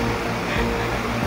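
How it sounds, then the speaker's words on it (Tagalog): A strong river current rushes past during a crossing on a relief journey to remote sitios, a steady, loud, close wash of water noise that fills the whole moment without a break. "Lakas ng ilog eh."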